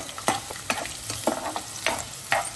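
Almonds frying in oil in a pan, with a steady low sizzle broken by several sharp scraping stirs of a spoon, fairly close and alone with no talk.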